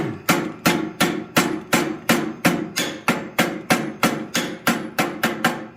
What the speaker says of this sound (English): Just going to use a ball peen.